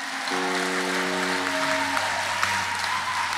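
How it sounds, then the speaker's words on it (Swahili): A congregation claps during a live Kikuyu-language church service, a dense, steady patter of many hands, with sustained keyboard chords ringing underneath at first. "Pigia Yesu makofi."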